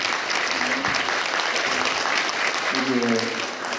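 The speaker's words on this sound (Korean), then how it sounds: "우리 반갑다고 우리 박수 한번 해주실까요?" A Catholic church congregation at Mass claps in welcome for a visiting guest, steady dense clapping with a few voices murmuring beneath it.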